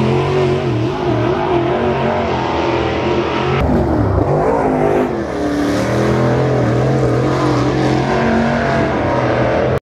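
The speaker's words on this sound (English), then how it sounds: "watch some qualifying action in the pit grandstands for the modifieds" Several modified race car engines roar loudly and continuously during qualifying, revving up and down as cars pass along the track, with a steady wash of engine noise throughout.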